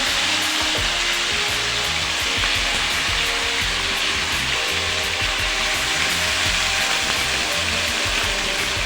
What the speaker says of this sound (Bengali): চিকেনটা কড়ার মধ্যে ছেড়ে দিলাম